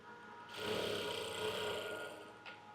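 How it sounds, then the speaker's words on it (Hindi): A sewing machine stitches fabric for a cowl sleeve in one smooth, steady run lasting about two seconds, faint and close. "बाकी के बचे हुए फैब्रिक से ऐसे नॉर्मली सिलाई लगा देंगे"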